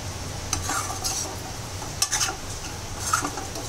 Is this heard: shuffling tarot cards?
no